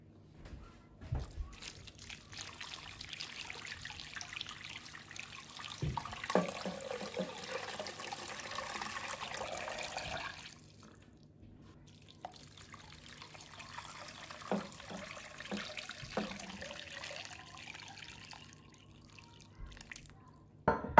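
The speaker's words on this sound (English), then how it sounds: "this is an 8-quart crock pot and I have added about 12-ish cups of water" Water being poured into an 8-quart crock pot, about 12 cups, a steady trickling and splashing stream that fades midway and then resumes before stopping, close by with no talking.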